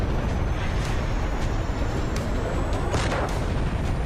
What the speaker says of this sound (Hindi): बंदरगाह पर न जाने कितने सालों से अमोनियम नाइट्रेट का भंडार जमा था और ये विस्फोट इसी वजह से हुआ